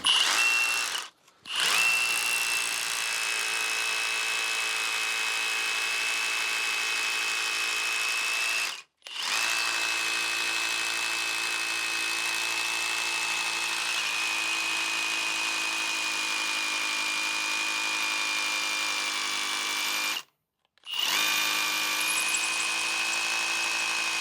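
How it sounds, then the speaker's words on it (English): A Bauer 20V brushless 1-inch SDS rotary hammer fitted with a Warrior bit bores 3/8 inch holes, giving a loud, steady high-pitched whirring hammer drone that cuts out briefly three times between bursts. "I'm gonna be drilling 3/8 inch holes with, I think this is a Warrior bit"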